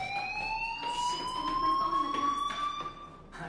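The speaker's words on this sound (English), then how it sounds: "Hey, do you hear that fire alarm?" School fire alarm in the video game Life Is Strange, a steady rising electronic tone that sounds continuously and fairly faintly behind a background bustle.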